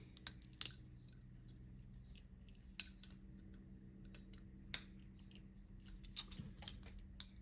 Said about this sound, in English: See if I can get in and cut some of the glue away.